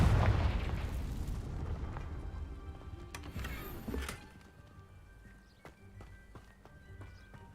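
A Confringo spell explosion in the Hogwarts Legacy video game opens with a loud, rumbling blast that decays over several seconds, followed by a few sharp cracks and a lingering low tail.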